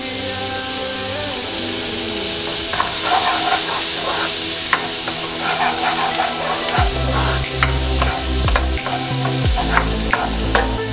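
Red onion sautéing in a pot for curry lentil soup, a loud continuous sizzle with stirring scrapes on top, under background music.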